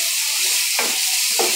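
Paste of ground onion, garlic and four whole black peppercorns sizzles in a pan for a tilapia dish, giving a steady close hiss with two brief stirring scrapes.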